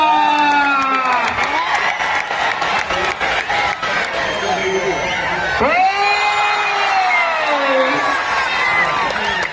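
Crowd at a village kushti wrestling bout cheers and whoops steadily, with scattered clapping and shouts under a loud, continuous roar; a commentator's voice rides over the noise throughout.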